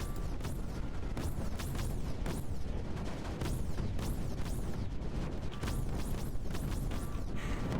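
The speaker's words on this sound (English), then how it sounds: "God, the constant sound of snipers shooting" Repeated sniper rifle shots in the strategy game Creeper World 4 crack out at a steady, rapid rhythm, each with a falling whine, over a dense rumbling battle din that never lets up.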